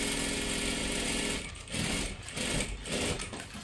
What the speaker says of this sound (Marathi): इथून आपल्याला शिलाई करायला सुरुवात करायची आहे